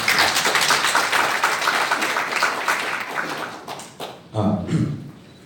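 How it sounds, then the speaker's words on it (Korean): An audience in a meeting hall at the National Assembly building in Yeouido claps to welcome a young company head to the stage. The dense clapping fades after about four seconds, and then a few thumps and a voice follow. "네, 박수 부탁드립니다."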